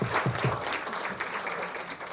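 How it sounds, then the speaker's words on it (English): Audience at a university symposium in Vanuatu applauding presenters on stage, a steady wash of clapping at moderate level with a brief murmur at the start. "Big round of applause for them,"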